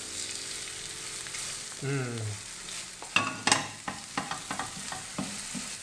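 Khlea caramelizing in a hot pan, a steady close sizzle with stirring, followed by a run of sharp scraping and tapping knocks from a utensil against the pan in quick succession.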